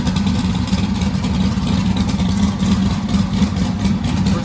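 Car engine idling steadily after a disc brake conversion, a loud close low rumble with an even throbbing pulse and no voices.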